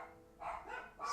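Dogs bark a few times in the background, faint and distant, with three short bursts spaced evenly and no talk over them.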